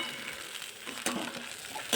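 Tomato puree gravy, salted, sizzles steadily in hot oil in a pan while cooking for a wedding-style val shaak, with a brief stir near the middle; no voices.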